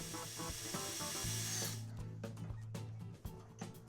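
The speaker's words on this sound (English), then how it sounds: "mark and drill the mounting holes in the bumper" A power drill bores mounting holes in a 1979 Jeep Cherokee bumper, whirring steadily for a couple of seconds, then stopping and restarting in short bursts, close by with no talking.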